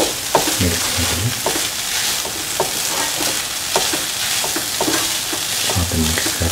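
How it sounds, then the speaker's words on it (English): Green and red chillies stirred while frying in a pan for green mango rice, a steady loud sizzle broken by repeated scraping stir strokes, close up. "Put in the green chillies and the red chillies."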